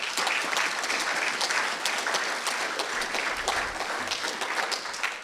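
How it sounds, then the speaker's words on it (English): Applause from a school achievement assembly audience, a steady dense clapping of many hands filling the hall throughout, with no talk over it. "So can you give them a round of applause,"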